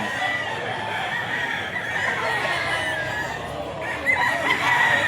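Gamefowl rooster crowing among the birds at a busy pet market, the call rising clearly over steady crowd and market background noise, with other fowl clucking nearby.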